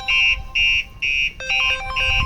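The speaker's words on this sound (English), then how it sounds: "we're going to get a phone call to tell you the alarm has been triggered" A phone ringtone from a triggered Starline car alarm's notification call on a VW Transporter sounds in short repeated electronic bursts, four or five rings in quick succession, clear and fairly close with no talking.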